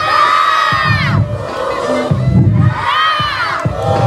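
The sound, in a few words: crowd of fans shouting their team's name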